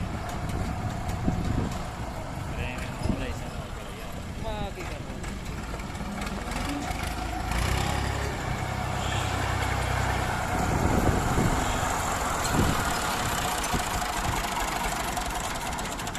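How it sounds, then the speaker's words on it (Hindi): A tractor's diesel engine chugs and knocks steadily at idle throughout, with occasional clanks and background noise, fairly close. "ट्रैक्टर जो है वो इधर आ चुका है।"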